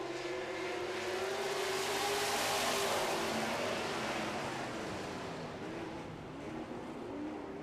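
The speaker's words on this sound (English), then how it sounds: "4 cars remaining on the racetrack for 6 laps as we get set to go racing" Super stock race cars accelerate together on a racetrack at the green flag, a broad roaring engine wash that swells and then eases slightly, heard from a distance without any talk.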